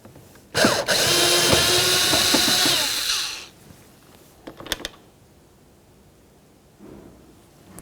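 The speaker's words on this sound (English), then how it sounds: "Under that, you'll find a Phillips head screw. Remove that screw." A power screwdriver runs steadily for about three seconds while backing out a Phillips head screw from the interior door panel of a 2003-2007 Honda Accord. A few faint clicks and handling sounds follow.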